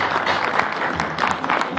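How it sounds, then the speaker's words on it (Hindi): Audience applause at a stage performance, a dense steady wash of many hands clapping close and fairly loud for nearly two seconds, with no voices over it. "मैं चाहूँगा कि जितने लोग बैठे हैं एक जोरदार ताली जरूर बजाने के लिए"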